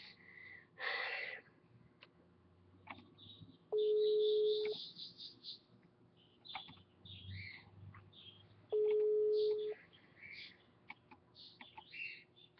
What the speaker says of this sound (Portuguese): Pô, ela não tá atendendo, eu vou ligar mais uma vez